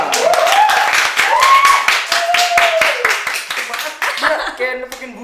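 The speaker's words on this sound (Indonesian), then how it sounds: "Tepuk tangan udah, kasih tepuk tangan dong." People in a podcast studio clap their hands, a fast, close run of sharp claps lasting several seconds, with voices talking and exclaiming over them until the clapping trails off.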